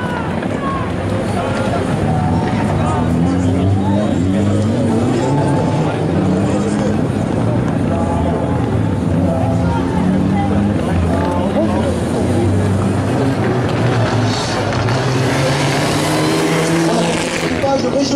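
Renault Clio rally car engine at a Wallonia rally event, loud and continuous with a droning, revving tone over crowd and commentary voices throughout.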